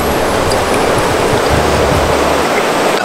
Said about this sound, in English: This is on the Hattersley River.